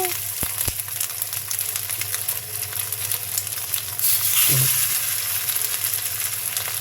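Onion fritters made from leftover panta rice fry in hot oil with a continuous close sizzle that swells briefly louder midway, alone without talk.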